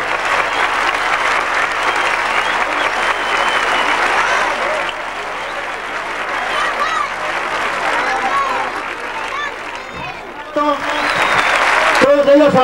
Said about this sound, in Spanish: Un fuerte aplauso para el Tinto.